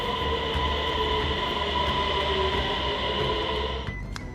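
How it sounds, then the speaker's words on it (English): A London Underground train pulls into a station with a steady loud rumble and a bright humming whine, then quiets as it slows near the end. "the train's here this time"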